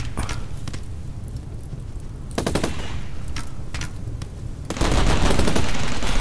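Automatic turret fire from the RimWorld base-defense game, with the Big Bang mod pack loaded, rattling out in repeated bursts over a dense combat din that swells louder toward the end.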